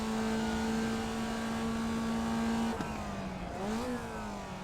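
A low-horsepower Formula Vee race car engine drones at Lime Rock Park in iRacing, holding a steady buzzing note close up. It then drops in pitch as the car slows and rises again as it picks up speed.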